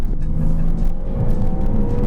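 A Porsche Cayman S 987 flat-six engine pulling from low revs in second gear, a steady droning hum with a rising harmonic tone, heard from inside the car with no talking.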